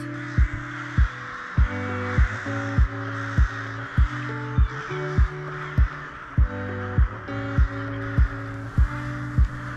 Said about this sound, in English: Heaps of crows.